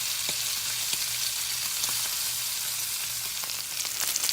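Ham frying and browning in a pan on a home kitchen stove, a steady close sizzle that holds throughout with faint pops and crackles, no voices.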